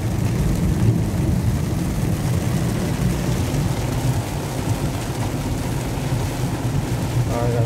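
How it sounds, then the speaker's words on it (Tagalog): Heavy rain pours down during travel between Bongabon and Villa Aurora, producing a loud, dense, continuous roar with a strong low rumble throughout. "It's raining guys. It's raining."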